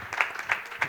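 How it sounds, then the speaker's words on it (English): Applause for panelists at a real estate conclave: a brief burst of crowd clapping with a few distinct claps standing out. "So a round of applause for them"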